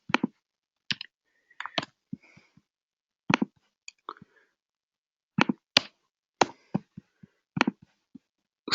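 Sparse keystrokes on a computer keyboard click in small irregular clusters with quiet pauses between them, close and fairly soft, alone without any talk.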